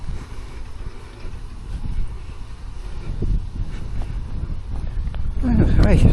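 Wind buffets the microphone in low, rumbling gusts that grow stronger toward the end, with a voice speaking now and then, on a riverside walk.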